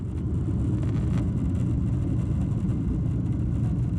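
Steady low engine roar of a KLM airliner on its takeoff run, heard from inside the cabin as a dense, even rumble with no pauses or voices.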